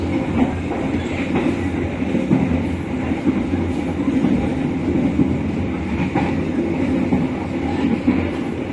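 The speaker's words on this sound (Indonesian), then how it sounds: "Perjalanan kereta api berantas setelah sampai di stasiun Nganjuk." The Brantas passenger train on an Indonesian line between Kertosono and Nganjuk, a steady close rumble of wheels on rails with faint rhythmic clacks throughout and no voices.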